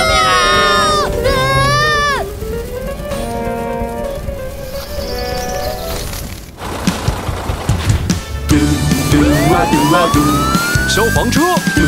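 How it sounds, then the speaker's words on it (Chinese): A cartoon fire engine siren wails in rising and falling sweeps within a lively children's song, loud and close, mixed with music and other animated sound effects. "消防车， 嘟嘟啊嘟啊嘟， 有任务"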